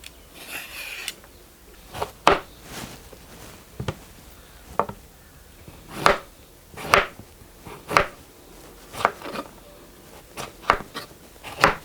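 A knife chops an onion into halves for Hyderabadi mutton dalcha, giving a series of sharp separate cuts and taps spaced about a second apart, close and moderately loud with no talk.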